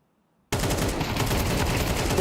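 Rapid AK rifle fire in Counter-Strike during a BLAST Premier esports match, bursting in abruptly after a silent gap and continuing as dense, loud, sustained shooting with no voices heard.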